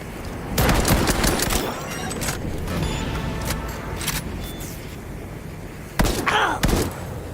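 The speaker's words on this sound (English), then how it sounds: "is somebody still shooting?" Bursts of gunfire from a Cyberpunk 2077 firefight, loud sharp volleys early on, a steadier rumble of shots through the middle, then another close burst near the end.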